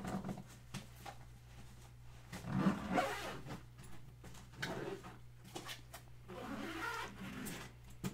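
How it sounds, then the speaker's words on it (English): Zipper being drawn closed on a scuba gear bag, a rasping pull in several uneven strokes over a steady low hum, close and moderately quiet with no talking. "And then I'm going to go ahead and zip it up."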